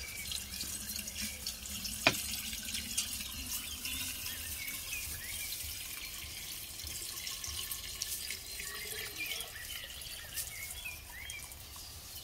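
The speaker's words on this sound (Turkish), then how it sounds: "Şimdi suyunu koyalım." Water poured into a salted, sugared mixture of garden apples for homemade apple vinegar, making a quiet, steady trickle and splash that runs for about twelve seconds with no talking.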